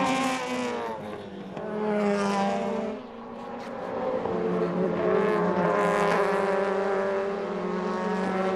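DTM touring cars from the 2000 German Touring Car Masters season racing at the Sachsenring, engines droning and revving steadily with harmonic whine, one car swelling louder as it passes near, continuous throughout.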